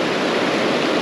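A small mountain stream flowing through a newly cut channel, a dense, loud, continuous rushing and splashing of water close by, with no voices.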